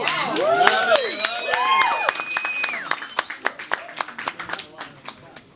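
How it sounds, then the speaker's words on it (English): An audience at a spoken-word poetry night in a small venue whoops and cheers at first, then breaks into a run of sharp, separate handclaps that thin out toward the end. "Clap it up."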